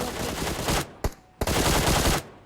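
Automatic gunfire in the mobile battle royale game PUBG Mobile: two loud, close sustained bursts of rapid shots separated by a few single cracks, with no talk over the shooting.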